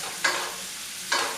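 Scallops fry in a pan held slightly above a gas flame, with whisky flambé in the cooking. A soft steady sizzle runs throughout, and two brief louder bursts of hissing rise and fall close by.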